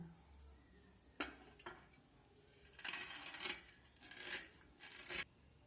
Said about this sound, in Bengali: আমি এই কাজটা ছুরির সাহায্যে করছি